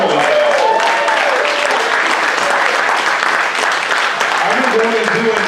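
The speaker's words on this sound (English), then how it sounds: "let's give a round of applause" Applause from the crowd at a stand-up comedy show, dense clapping and some cheering heard close and fairly loud, with a voice talking over it and carrying on as the clapping continues.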